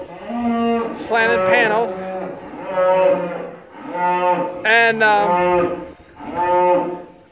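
Cattle in a steer barn with a headlock system and panels moo loudly and repeatedly, about six long, close calls in a row, while someone speaks briefly between them.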